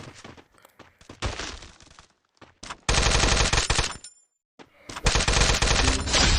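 Gunfire in the game Free Fire: rapid bursts of automatic shots in several volleys separated by short silences, loud and close, with no speech.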